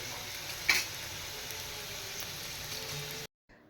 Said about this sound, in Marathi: चार पाच करंजा घालून मी तळून घेते